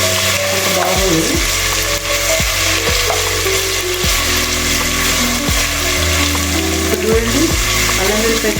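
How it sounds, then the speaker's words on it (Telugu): Ginger garlic paste sizzles steadily in a pan for veg biryani, a loud continuous frying hiss broken by occasional scrapes and taps of a spoon stirring the paste. "చూడండి, అల్లం వెల్లిపాయ పేస్ట్ వేగింది."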